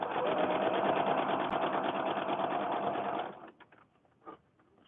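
A sewing machine stitches fabric with cotton thread for a handmade fabric book, running in a steady fast whir for about three seconds before stopping, followed by a few light handling knocks.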